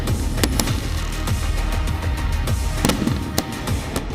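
Green firecrackers and fireworks go off in Delhi NCR ahead of Diwali, a dense loud run of rapid bangs and crackles over a continuous rumbling din, with no talk.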